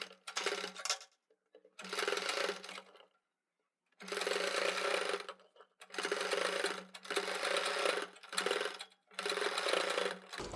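A sewing machine stitching piping onto a round neckline runs in five bursts of rapid mechanical whirring, separated by short pauses and one longer gap, close and fairly loud with no talking.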